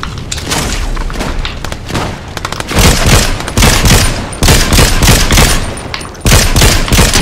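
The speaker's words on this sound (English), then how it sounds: "I think I may have overdid it with the flame bow" Flame bow shots and fiery explosions in Fortnite, a rapid, loud barrage of crackling blasts and booms in steady succession, close and intense, with no talking.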